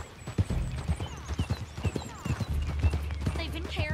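Rhythmic horse hoof clip-clops trot steadily along beneath a voice speaking, in a video game.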